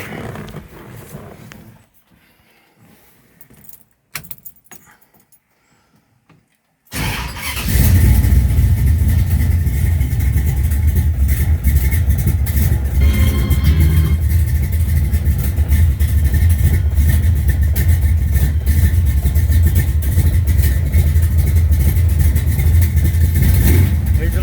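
A cammed 440 engine in a 1969 Charger race car being converted for street use cranks cold without a choke after a quiet stretch, then fires and settles into a loud, steady, lumpy idle that lasts to the end.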